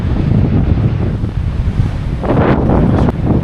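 Huge waterfall at the Cirque de Gavarnie in the Pyrenees, a loud continuous roar of falling water mixed with heavy wind buffeting against the microphone.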